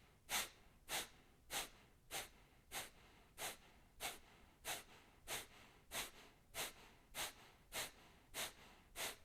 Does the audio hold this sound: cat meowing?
no